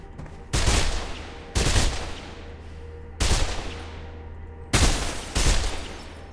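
Four loud bursts of gunfire in the video game Mirror's Edge, spaced roughly a second apart, each a sharp crack with a short ringing tail over a steady low background.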